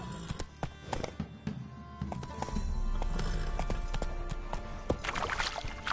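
Roach the horse gallops in The Witcher 3, a steady run of clip-clopping hooves carrying close and loud over a low rumbling bed of game sound, with no talk heard.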